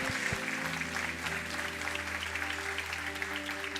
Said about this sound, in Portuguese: Se é para Jesus, aplauda.